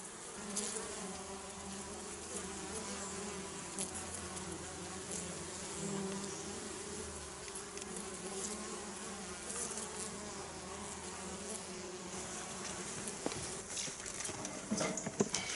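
Dense, continuous buzzing of many honeybees around a busy hive bringing in pollen before winter, a close, steady swarm drone with faint patter, no voices.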